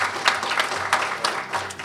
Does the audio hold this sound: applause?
yes